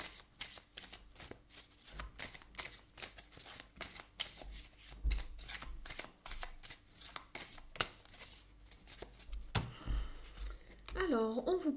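Oracle cards being shuffled for a reading, a close, rapid series of crisp riffling and slapping bursts that continue steadily, with a brief bright clatter near the end.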